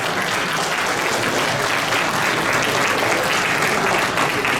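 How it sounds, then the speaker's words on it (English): Audience applause at a farewell ceremony for an ambassador held by the Indian community in Riyadh, steady dense clapping from a large crowd, loud and continuous throughout. "Please keep clapping."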